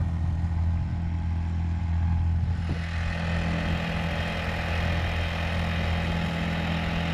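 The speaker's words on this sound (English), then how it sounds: "that motor's barely running" A 50cc KB V3 outboard drive on a Crescent K-Craft boat idles rough and barely running, a steady low engine drone with a loud, continuous rumble throughout.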